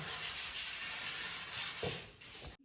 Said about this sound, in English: this is gonna be the baseboard trim that she's sanding now